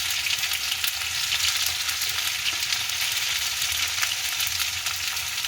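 Fennel seeds fry in hot oil alongside ginger paste, a dense, continuous crackling sizzle heard up close at a steady loud level, with no talking.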